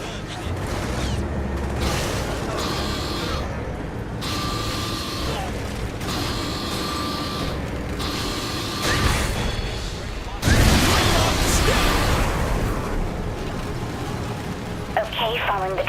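A tank rolls along in the Saints Row The Third video game, its treads giving off rattling, ratcheting mechanical clanks with a loud burst partway through, while people talk over it.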